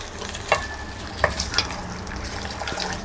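Spoon stirring mixes a mint (pudina) chutney, with a few distinct clinks and scrapes over a continuous low hiss, close and fairly loud, with no talking.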